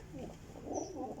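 A female Sialkoti pearl-eyed pigeon coos softly, a few low rolling pulses close by in a quiet setting.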